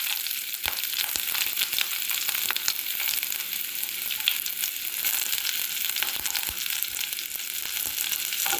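Garlic and green chili fry in melted fat for cauliflower fried rice, giving a dense, steady sizzle and crackle close by throughout, with occasional soft scraping from stirring and no voices.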